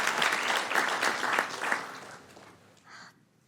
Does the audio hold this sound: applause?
yes